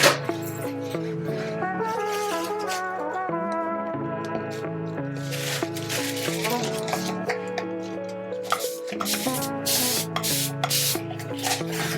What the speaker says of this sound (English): let's kind of spray this now